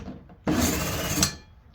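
A Ryobi cordless drill bores a hole in a short, steady burst of high whir and bit chatter lasting under a second, then stops abruptly, close and alone.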